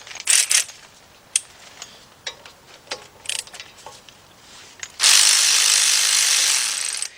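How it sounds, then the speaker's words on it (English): A 3/8 drive ratchet turns on a control arm bolt, sounding as quick, close clicking bursts separated by gaps, followed by a loud continuous hiss near the end. "let's change over to our 3/8 drive ratchet"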